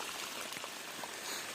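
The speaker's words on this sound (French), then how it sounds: "Là, une petite cascade." A small waterfall along a rainy countryside footpath in the Limousin plains gives off a steady, even rush of falling water, continuous and close with no talk.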